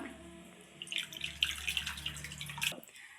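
Water splashes and trickles into a thick ground coconut paste for Kerala-style fish curry, a short wet pour with small bubbly spatters, close by and fairly quiet.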